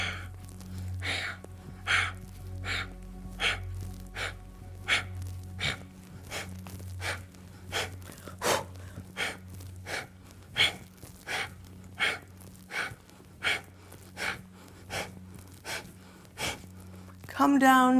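Steady, rhythmic bursts of breath repeat about once a second during a core yoga exercise of knee-in cycling, close to the mic, with a voice speaking at times over a low hum.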